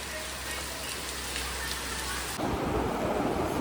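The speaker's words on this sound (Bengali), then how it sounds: "আরো জোরে বৃষ্টি নেমেছে দেখো" Heavy monsoon rain pours down at home in a steady, dense roar that grows suddenly louder partway through, with a low rumbling undertone and no voices.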